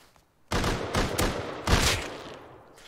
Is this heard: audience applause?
no